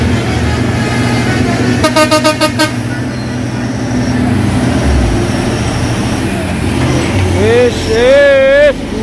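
Rhythmic tooting pulses of a truck telolet horn, then a later wavering melodic honk, heard over a loud rumbling truck engine on the road, with people talking throughout.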